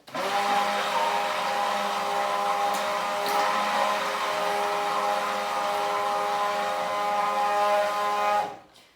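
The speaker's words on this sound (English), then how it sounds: "So as I'm blending the soap, it starts to thicken up" A stick blender runs steadily through a batch of natural soap mixture, a loud continuous motor whine with a stable pitch lasting several seconds before it cuts off abruptly near the end.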